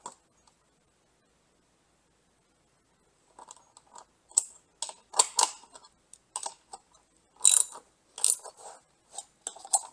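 Bolts being tightened during a Worksport AL4 flip-up hard tonneau cover install give bursts of close ratcheting clicks after a quiet start, in short uneven runs.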